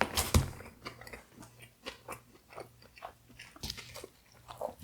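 Someone bites into a Domino's Pacific Veggie pizza topped with Alfredo sauce, spinach, onions and several cheeses: one sharp close bite, followed by soft repeated chewing and mouth sounds in a quiet room.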